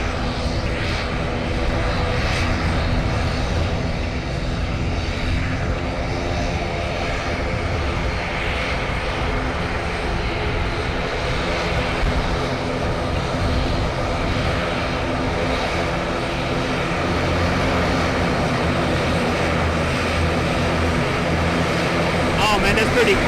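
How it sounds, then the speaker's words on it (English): ATR 42-600 turboprop airliner passing close at San Juan's Luis Muñoz Marín International Airport, a steady loud propeller drone with broadband roar holding for over twenty seconds, with voices talking over it. "So this is gonna be an ATR 42-600"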